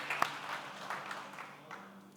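A church congregation claps during a Portuguese-language sermon: faint, dense applause that holds for about two seconds, then gradually thins and fades.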